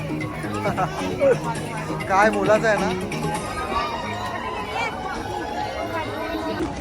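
Dense crowd of women chattering at the Mahalakshmi temple fair, a steady babble of many overlapping voices close by and all around, with nearer voices talking over it throughout.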